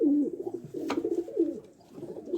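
Young pigeons out of the loft for the first time coo softly, a steady low murmur of cooing from a few birds close by with one brief sharper note midway.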